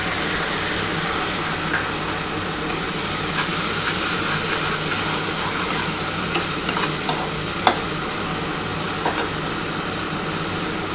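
Onions frying in oil with ground mustard paste just added, for a spicy Bengali fish curry: a steady broadband sizzle with occasional sharp pops and stirring scrapes, close and fairly loud, with no talking.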